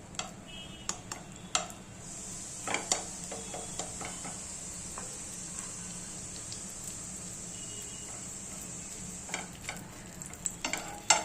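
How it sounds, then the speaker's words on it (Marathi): Sandwich frying in ghee in a pan, a faint steady sizzle running throughout with scattered light clicks and taps of a utensil, close by and quiet, no voices. "आणि हे आता हे असं ठेवायचं फ्राय करायला. आणि थोडंसं तूप टाकायचं."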